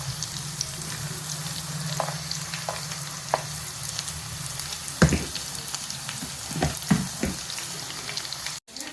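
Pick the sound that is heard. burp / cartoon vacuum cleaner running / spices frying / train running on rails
spices frying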